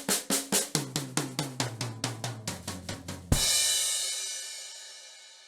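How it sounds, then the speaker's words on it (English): A drum kit played tom by tom, four even strikes on each drum stepping downward in pitch, ending in a loud crash that rings out and slowly fades; close and clear with no voices. "So basically I'm going to play 4 hits on each drum"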